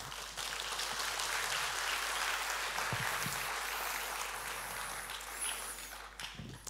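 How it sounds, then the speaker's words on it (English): A church congregation applauds together in sustained, fairly even clapping that fills the space for several seconds before thinning out near the end. "let's all applaud and thank them for what they are doing"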